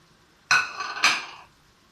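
Metal spoon scraping and clinking against a pot while tomatoes and spices (coriander, garam masala, crushed red chilli, salt, turmeric) are mixed into a beef curry; two close, sharp scrapes with a short rattle between.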